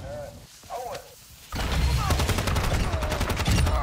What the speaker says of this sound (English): they're shooting at them again.